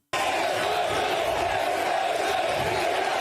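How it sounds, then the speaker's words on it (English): A crowd cheering and applauding on a golf course as someone walks onto the green, a dense continuous roar of voices and clapping starting abruptly and holding steady. "Everyone is cheering him on."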